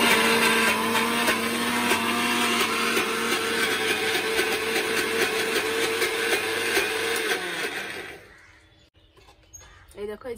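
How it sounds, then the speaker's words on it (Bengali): A kitchen mixer grinder blends boiled soybeans into a paste, its loud steady whirring motor running continuously for about eight seconds before cutting off, leaving near silence. "এই যে একদম মিক্সারের মধ্যে দিয়ে দিয়েছি। এটা এখন পেস্ট করে নিই।"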